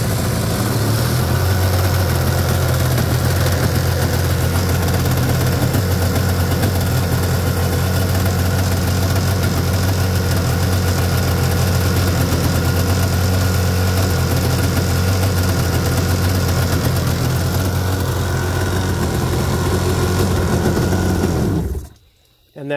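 A jet ski engine, started for a charging-system test with a garden hose running, idles steadily with a low droning hum for about twenty seconds and then cuts off abruptly at the end.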